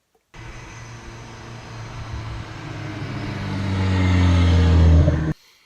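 A Ford Focus ST with a Ford Performance exhaust drones with a low rumble that swells and deepens as the car coasts, then cuts off abruptly.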